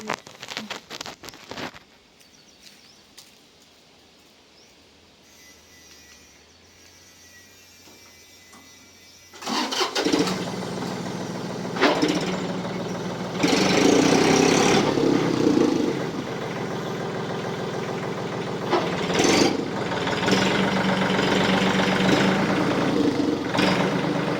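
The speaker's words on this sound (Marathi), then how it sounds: "आपण ट्रॅक्टर लावू." After quiet clicks and a faint low hum, a tractor engine starts up loudly on a farm and settles into a steady, rumbling idle that continues to the end.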